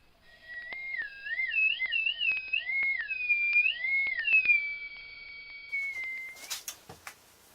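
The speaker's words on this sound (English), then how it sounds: "And there you go, one slide whistle." A homemade wood-turned slide whistle being played, its clear pure tone gliding up and down in pitch through several slides and wavering notes before ending with a breathy rush.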